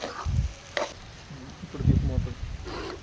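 Ridge gourd pieces are stirred in a frying pan while preparing a ridge gourd and potato curry, with close scraping bursts and a soft underlying sizzle between strokes.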